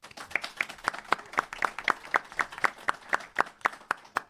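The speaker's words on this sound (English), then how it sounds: "a round of applause to everyone who is here" Sparse applause from a small audience at a live retail show during a trade fair, individual claps clearly separated in an uneven rhythm, about a dozen distinct hand claps, fairly close and moderately loud with no talk.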